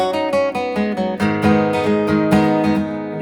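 Strummed acoustic guitar carries the chord progression of a song, brisk rhythmic strokes with a walking bass movement, close-miked and loud, with no voice.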